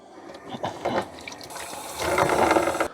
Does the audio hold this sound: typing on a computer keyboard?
no